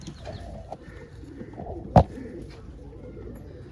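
Pigeons in a tree give a low, soft coo at a moderate distance against a faint rustling outdoor background, with one brief louder sound partway through.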